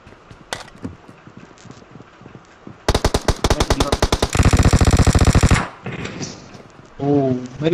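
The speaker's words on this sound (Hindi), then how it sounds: "मेरे ऊपर फायरिंग" Machine gun fire in the battle royale game PUBG, a loud rapid burst of evenly spaced shots building into a dense sustained stream for several seconds, with brief scattered sounds and a voice-like tone before and after.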